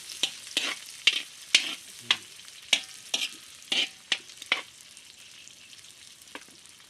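Jackfruit chips frying in oil, with a string of sharp scrapes and clacks from stirring the pan over a soft sizzle; the stirring thins out near the end.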